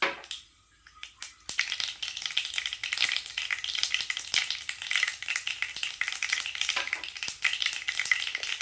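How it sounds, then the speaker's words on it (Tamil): Mustard seeds and urad dal frying in hot oil in a kadai, with a loud, close, steady sizzle and crackle broken by scattered pops and the scrape of stirring, after a brief quiet start. "கடாய் வச்சுட்டேன், எண்ணெய் சேர்த்துக்கலாம். கடுகு உளுத்தம் பருப்பு சேர்த்துக்கலாம்."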